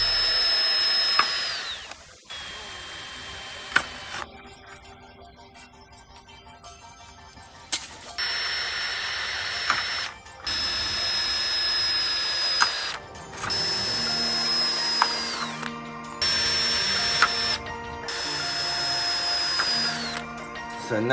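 A power drill bores pilot holes along a car's lower body for fitting carbon side skirts, in several short whining bursts separated by brief pauses, close and fairly loud.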